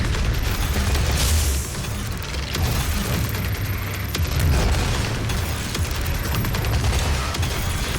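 Rocket explosions and heavy gunfire boom almost without pause during the Twin Titans boss fight in the Doom video game, a loud dense barrage of blasts and crashes.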